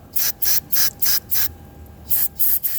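Short hissing bursts of aerosol cleaner sprayed into a Toyota mass air flow sensor, about eight quick blasts in two groups with a brief pause between, close and loud with no talking.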